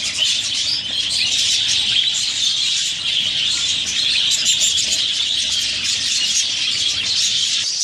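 Budgerigars in a breeding cage keep up a dense, unbroken chatter of chirps and tweets, loud and close, with no pauses and no voices.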